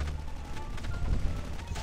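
Gunfire in COD Mobile, a quick burst of rapid shots with dull low thumps, brief and loud against game noise.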